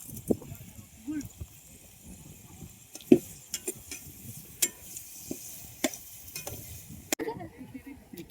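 Onions fry with salt in a pan while cooking outdoors in the fields, with scattered spatula scrapes and clinks over a faint sizzle and quiet voices in the background.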